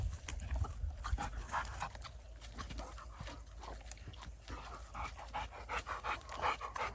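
Dogs pant steadily and fairly close outdoors near farmland, a continuous rhythmic breathy huffing with no talking over it.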